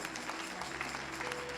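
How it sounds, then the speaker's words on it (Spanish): Brief applause from a church congregation, a soft, fairly distant patter of clapping that lasts only a moment. "Le damos un aplauso a Dios,"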